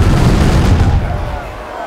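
Cannons fire in a naval battle video game set in the East India Company era, British ships against pirates, with a loud booming blast and a dense rumbling decay that fades over about two seconds.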